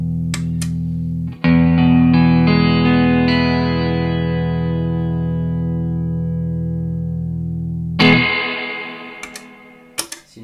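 Guitar played through a SurfyBear reverb unit with all knobs set around midday, ringing chords with a long, washy reverb tail that slowly decays, then a few more struck notes and a short pluck near the end.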